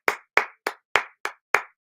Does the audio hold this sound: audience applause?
yes